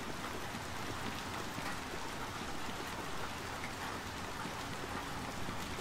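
Steady rain falls in the dark world of the video game Little Nightmares 2, a dense, even hiss of downpour and patter that holds unchanged throughout with no talk over it.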